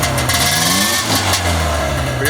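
Snowmobile engine idling low just after startup, a close, rough mechanical rumble with uneven sputtering pulses, a voice talking over it.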